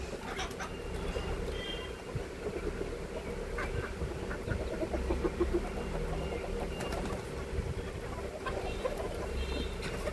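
A flock of free-range country hens pecking at greens cluck and murmur continuously at moderate distance, with a steady low outdoor ambience and no talk over it.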